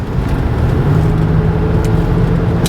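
A 1990 Lincoln Town Car with 49K miles on the Panther platform kicks down into passing gear. Its engine drones steadily and loudly under road and tire noise from inside the car.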